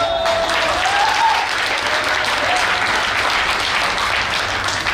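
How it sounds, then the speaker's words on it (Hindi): An audience at a motivational speaker's talk claps loudly and steadily, a dense, even wall of applause lasting throughout, with a faint whistle-like tone early on. "तो आपको तालियां निकल रही हैं।"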